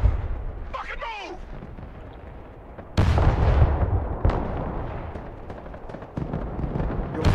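Artillery fire in the Broken Arrow war game: a few heavy booming blasts, one near the middle and another shortly after, each with a rumbling tail, amid steady battle ambience while players talk.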